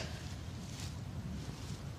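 Steady wind blowing through a desolate, fire-ravaged Japanese setting, a continuous low rushing roar with faint gusting hiss, no voices.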